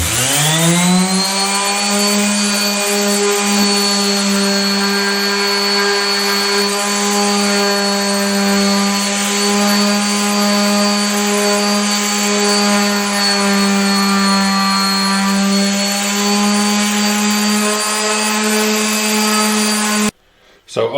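A power sander with 80 grit works an exotic wood cutting board of maple, African rosewood and imbuia, a loud steady whirring drone held unbroken for about twenty seconds before cutting off abruptly.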